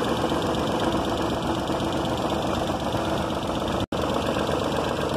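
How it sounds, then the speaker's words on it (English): An engine idles steadily with a constant mechanical rattle and hum, broken once by a very brief cut before resuming. "switch off your car engine"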